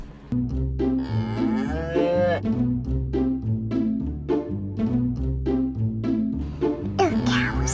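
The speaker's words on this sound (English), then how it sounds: "The cow is walking in the field." Cattle on a farm field, with a cow lowing in a series of steady, fairly loud moos that run back to back across the whole stretch, with no talk over them.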